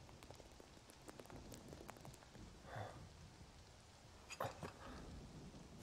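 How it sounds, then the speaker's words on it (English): Rain in the Final Fantasy 7 Remake video game, a quiet, even hiss of falling rain with scattered drop ticks, faint throughout, with a couple of brief louder splashes. "They haven't seen rain in this game."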